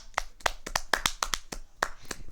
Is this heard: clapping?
yes